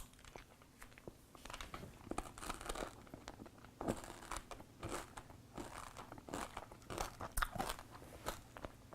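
Neapolitan M&Ms being bitten and chewed, with a string of close, crisp crunches and crackling shell bites arriving in irregular bursts over a faint quiet background.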